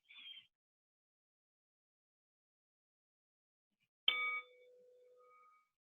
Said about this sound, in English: When you hear the sound of the bell, taking a deep breath in